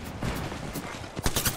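Gunfire in Apex Legends, a burst of rapid shots with sharp cracks clustering near the end over a dense, noisy battle backdrop.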